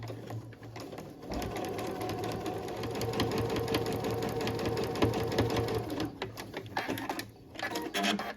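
A sewing machine runs a steady stitching burst along a quarter-inch seam on a cotton tote bag, rattling continuously at close range and then slowing to a stop.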